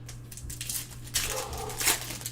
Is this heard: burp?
no